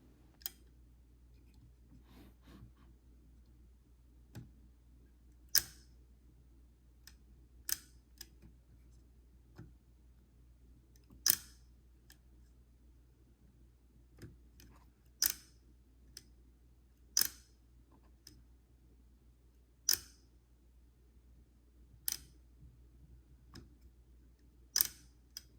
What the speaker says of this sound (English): And with any camera, I like to test out the shutter.